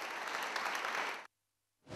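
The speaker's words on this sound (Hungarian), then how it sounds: "A közönség vastapsal üdvözölte a lelkes fellépőket" A theatre audience gives dancers a warm burst of steady applause, dense and fairly distant, which cuts off abruptly and then resumes after a short silence.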